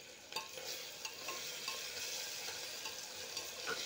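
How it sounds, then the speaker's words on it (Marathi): Tomatoes are stirred in a hot tempering for masala rice, giving a soft steady sizzle with light scraping strokes of the spoon at irregular intervals, quiet and close. "टोमॅटो आपल्याला थोडासा मऊ होईपर्यंत हलवून घ्यायचा आहे"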